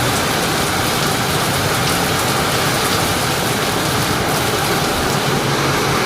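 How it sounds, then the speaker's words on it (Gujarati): Loud, constant downpour fills the whole clip, an unbroken roar of rain close by without any talking. "વરસાદ ચાલુ થઈ ગયો હો ખૂબ બોલાવો વરસાદ"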